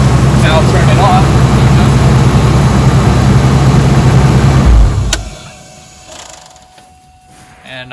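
A truck engine idles loudly and steadily, a deep rumbling drone close by, then cuts off abruptly and leaves a quiet tail of faint ticks and ambient noise.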